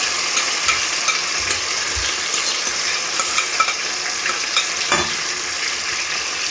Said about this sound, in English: I'm going to add it straight into my frying pan.